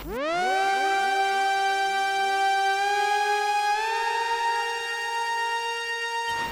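A bright, buzzy synthesizer lead holds long notes that slide into pitch, sustained and loud with no other sounds.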